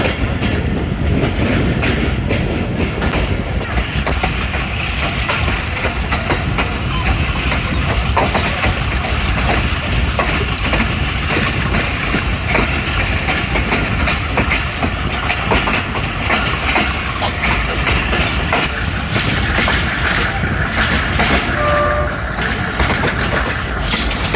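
The Hazara Express rolls along the rails with a loud, steady rumble and rhythmic clickety-clack of wagon wheels that fills the whole stretch without letting up.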